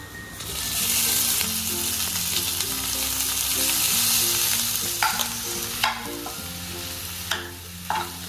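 Potatoes tipped into hot spiced oil for vada pav filling, a steady loud sizzle and frying hiss with stirring scrapes, plus a few sharp clinks of a spoon near the end.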